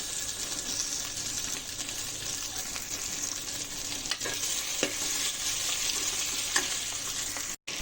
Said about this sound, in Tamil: அதில் 3 தக்காளி மட்டும் இதில் சேர்த்துக்கிறேன்.